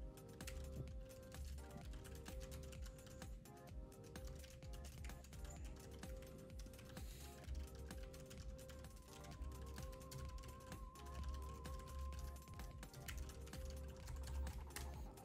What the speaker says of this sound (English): I can even type in here.